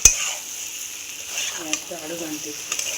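Egg fry masala being stirred in a pan, a soft steady sizzle with light scraping stirs, quiet and close, with faint talk underneath.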